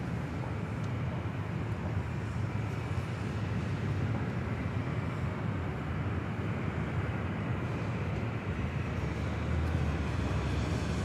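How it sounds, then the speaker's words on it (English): A Delta Airlines Boeing 737-800 takes off at LAX, a continuous deep, broad jet engine roar heard from a distance, steady and heavy in the low end for the whole stretch, with no voices. "That is Delta Airlines Flight 2272 heading to SFO in the 737-800"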